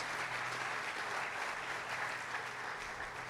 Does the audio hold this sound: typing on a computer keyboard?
no